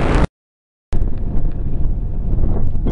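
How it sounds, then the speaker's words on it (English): Strong wind buffets the microphone on a motorcycle ride through Thailand from Pattaya toward Chanthaburi, a loud continuous rumble that cuts out briefly near the start and then roars on steadily with no talk. "it's very windy"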